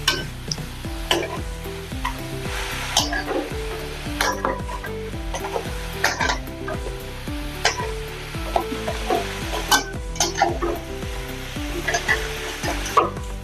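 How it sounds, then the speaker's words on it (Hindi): Poha snacks fry in hot oil while being stirred, giving a steady sizzling bed overlaid with repeated scraping and clinking of a utensil against the pan throughout. "सभी साइड से अच्छे से तलने के लिए होना। बीच बीच में ऐसे हिलाते जाइए।"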